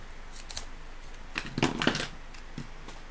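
Scissors cutting through paper and 3D foam for a handmade Halloween cat card, a few quick soft snips followed by a brief louder burst of cuts, close and quiet with no talk.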